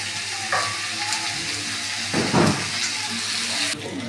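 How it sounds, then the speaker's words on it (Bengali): Potatoes and onions fry in a pan with a continuous, close sizzle. A few stirring scrapes and brief surges of hissing rise and fall, with no talking. "এবার এই আলু পেঁয়াজটা ভালো করে ভাজা হবে"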